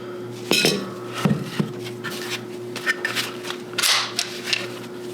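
Metal clinks and clicks of SIG P365 pistols being handled during a safety check: scattered sharp taps and rattles over a steady low hum, close by, with no talk.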